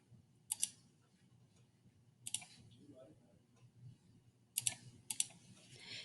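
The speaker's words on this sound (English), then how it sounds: "you can type your answer into the box" Keys on a computer keyboard click in short, sparse bursts as an answer is typed, with quiet clatter between the groups of keystrokes.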